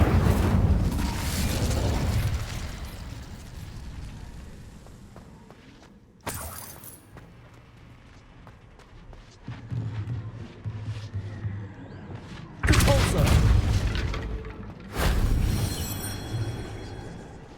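Incendio fire spell blasts in the Hogwarts Legacy video game, loud whooshing bursts with rumbling tails, one at the start and several more later, separated by quieter stretches of footsteps and faint clanks.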